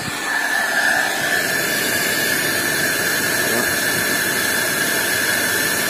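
A hair dryer runs at full heat on a portable power station, giving a steady loud whoosh of blowing air with a constant whine, close and unbroken throughout.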